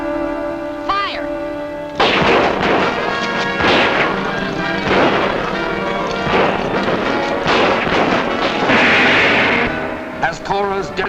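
Weapons fire in an old serial film, a burst of repeated loud cracks and crashes starting abruptly and continuing for several seconds, with shouted voices at the start and end.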